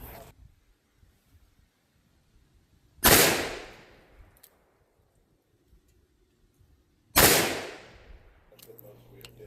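Two .38 Special Remington HTP rounds fired from a 6-inch barrel into ballistic gel outdoors, two loud sharp reports about four seconds apart, each with a decaying tail and quiet between.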